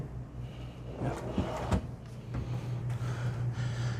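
A pull-out drawer beneath the bottom bunk of a 2023 Newmar Super Star 4065 motorhome slides open or shut with a short scrape and a soft knock, close by in a quiet interior.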